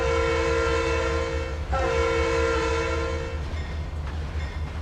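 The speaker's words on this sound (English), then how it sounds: "They gotta love these horns all day long, huh?" A diesel locomotive's horn blows in the Trainz 2022 railroad simulator, with steady multi-tone blasts over a continuous low engine rumble and rail noise. One brief break falls partway through, and nobody talks.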